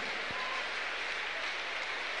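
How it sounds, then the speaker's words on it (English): A church congregation claps together during a Thursday counseling and deliverance service, a continuous wash of applause with a faint voice briefly underneath near the start. "Clap for Jesus."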